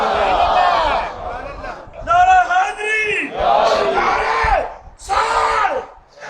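A large crowd at a religious conference honouring Imam Hussain chants the slogan "Hussain" in loud, repeated collective shouts, each swelling and breaking off in turn.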